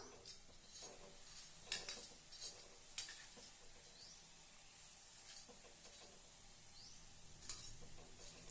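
Omapodi frying in fresh groundnut oil, a low, steady sizzle and foaming crackle with occasional sharp clinks of a utensil against the pan, heard close and faint, no talking.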